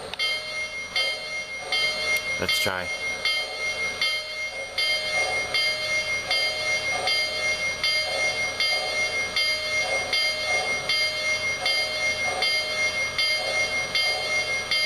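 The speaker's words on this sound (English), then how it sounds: "I want to say the bell will go off automatically" Bell on an LC #3452 model train locomotive ringing in a steady repeating rhythm, fairly loud and close, with a brief louder clank early on and a short spoken phrase at the start.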